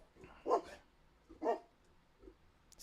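Two distinct barks from a dog, about a second apart, then a soft low whimper-like sound, heard at moderate distance against a quiet room background with no talking.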